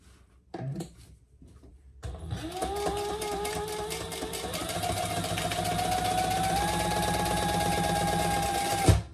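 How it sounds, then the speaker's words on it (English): A sewing machine topstitches a fabric sling bag, starting after a few soft handling knocks and then running steadily and close for several seconds with a fast rhythmic clatter before stopping abruptly. "Let's top stitch here."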